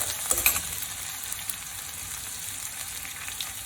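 Ginger garlic paste frying in hot oil while cooking a dry aloo peas masala sabji gives a steady, soft sizzle, with a few light clinks early on and no talk.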